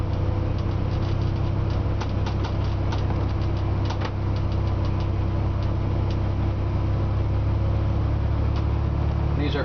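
A diesel engine from an MCI J4500 coach bus runs steadily throughout, a constant low rumble with a faint clicking texture, loud and close, with no speech.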